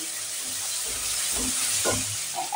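Chopped garlic sizzles and fries steadily in a pan, a close, even hiss broken by soft scraping and knocking as it is stirred, with no voices.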